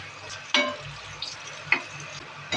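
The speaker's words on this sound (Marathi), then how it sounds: "सगळी कोटिंग करून घेते आणि भाजायला घेते" Slices of elephant foot yam coated for frying crackle and sizzle in a pan, a steady low hiss under a few sharp clicks and scrapes, close and with no talking.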